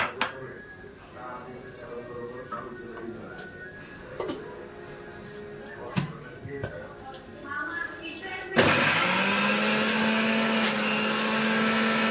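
A mixer grinder blends guava and coriander into chutney, a loud steady whir that starts abruptly partway through after quieter kitchen clatter and a voice.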